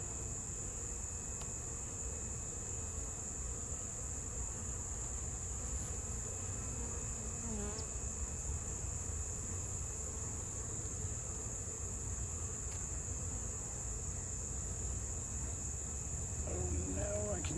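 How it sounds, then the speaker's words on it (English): Frogs and insects call outdoors in early September, a continuous dense chorus of shrill chirps and trills holding steady throughout at moderate loudness. "I can hear the frogs coming out"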